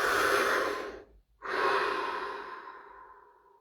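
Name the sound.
deep breath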